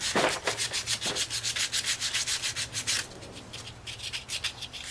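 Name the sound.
sanding with sandpaper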